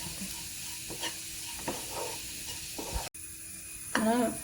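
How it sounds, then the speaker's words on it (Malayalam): Grated coconut roasting in a pan for chickpea curry, with steady soft sizzling and repeated scraping stir strokes. A brief voice-like sound rises near the end. "തേങ്ങ നല്ല വറവായിട്ടുണ്ട്, കുറച്ച് ബ്രൗൺ നിറമായിട്ടുണ്ട്"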